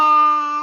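A voice imitates a goat's bleat, one sustained, strongly harmonic, wavering cry lasting under a second, close and loud.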